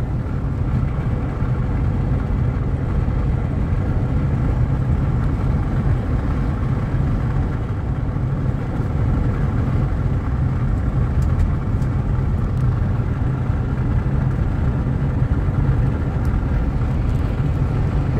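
A car cruises along a Suwannee County, Florida road at about 55 mph, its steady low engine drone and tyre rumble continuous and fairly loud from start to finish, with no talking.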